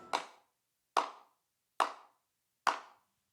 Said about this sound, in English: The slow clap interrupted the Hersher just before she launched her lance.